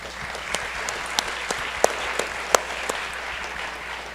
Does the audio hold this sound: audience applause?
yes